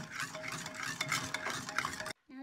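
Gingerbread dough with molasses being mixed in a bowl by hand, giving a steady, close scraping and stirring noise that runs nearly continuously before breaking off into a short silence at the end.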